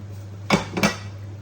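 Two quick metallic clinks of a utensil against a pot ring out close and clear as glutinous rice balls go into the pot, with a quiet background hum.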